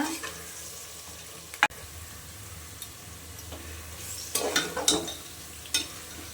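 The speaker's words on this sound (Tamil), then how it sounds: "வெங்காயம் பார்த்திங்களா நல்லா வதங்கிடுச்சு" Onions sautéing in a pan for chicken biryani, a quiet sizzle with scattered stirring scrapes, one sharp knock, then a louder burst of spatula clatter near the end.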